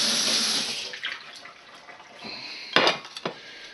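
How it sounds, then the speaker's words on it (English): Hands are washed under a running kitchen tap, a soft continuous water stream with light splashing and a few sharper clinks and spatters toward the end, fairly quiet and with no talking. "Wash and dry my hands."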